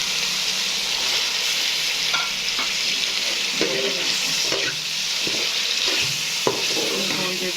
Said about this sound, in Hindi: थोड़ी देर भूनूँगी,